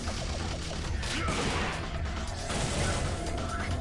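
An enemy's gun fires in a video game, a dense, continuous barrage of rapid shots and crashing impacts that stays loud and busy throughout, layered with clanking mechanical game effects and no clear speech.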